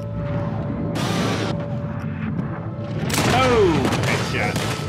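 Gunfire in a Red Dead Redemption 2 shootout: a loud, continuous fusillade of overlapping shots and booms with whizzing, descending ricochet-like sounds, close and dense throughout.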